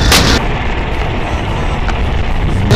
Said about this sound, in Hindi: एक बम तो फोड़ूंगा।